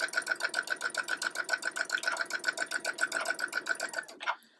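A domestic sewing machine stitches quilt block pieces in fast, even rhythmic bursts of mechanical chatter, close and clear, then stops abruptly with a final clunk.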